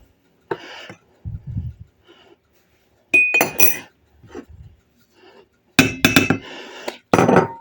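Sugar, vanilla sugar and flour are whisked into a custard mixture in a bowl, heard as bursts of clinking and scraping from a whisk or utensil striking the bowl, with quiet pauses between them.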